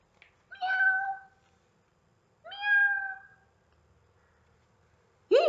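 A cat meows twice, clear and drawn out with quiet gaps between, and a third meow begins at the very end.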